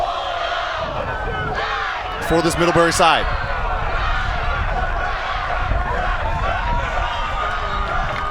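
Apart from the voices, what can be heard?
fans cheering at college ultimate frisbee match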